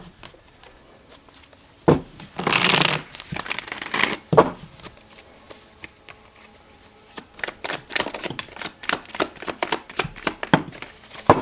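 A deck of tarot cards is shuffled close by, with a loud riffling burst early on, then a quicker run of crisp flicks and taps as cards are handled and pulled out, and no talking.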